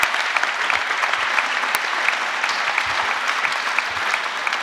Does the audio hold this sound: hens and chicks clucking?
no